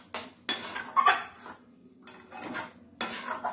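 A utensil scrapes and clatters against a pan as a vegetarian curry with sugar is stir-fried, a few short bursts of metallic stirring separated by quiet pauses, close and soft.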